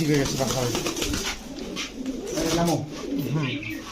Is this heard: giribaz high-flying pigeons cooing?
yes